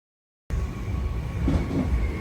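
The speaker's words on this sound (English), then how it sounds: "Here's the train gonna take me home." After a moment of silence, a Moscow Metro train rumbles steadily nearby, with a low continuous roar and a faint high whine over it.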